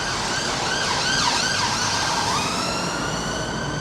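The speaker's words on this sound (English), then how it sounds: "and now there's an ambulance" An ambulance siren wails steadily at a moderate distance over a constant hum of city traffic in Maida Vale, London, its pitch sweeping up and down.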